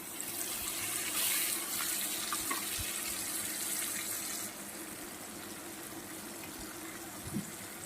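Running tap water washes a bowl in a kitchen sink while cooking a ridge gourd, poppy seed and egg dish, a steady close hiss of flowing water with small clinks, easing slightly quieter halfway through.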